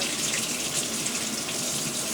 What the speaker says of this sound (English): just rinse it. Use warm water and just rinse it until it's clear